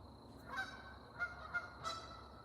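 Geese honking in a few short, separate calls spread across a couple of seconds, moderately close over a quiet outdoor background.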